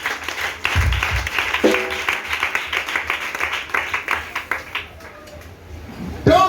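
A church congregation applauds to acclaim during a prayer and fasting service, with steady, moderately loud clapping in a fast rhythm and voices calling out over it.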